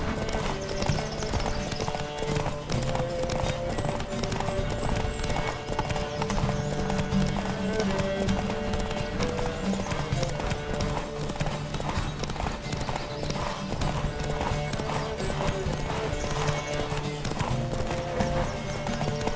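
Steady, rapid hoofbeats of a galloping horse in The Witcher 3 pound continuously under a synthetic, game-like background.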